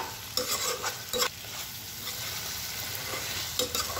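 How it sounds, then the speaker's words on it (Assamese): Spices frying with yogurt in a pan give a steady, close sizzle, broken by a few louder bursts of stirring. No voices are heard over it. "এনেকৈয়ে অলপ ভাজিব লাগিব"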